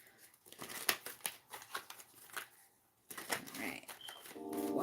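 Tarot cards being shuffled by hand, giving soft papery riffling and flicking bursts in quick clusters, close and fairly quiet, with a brief pause in the middle.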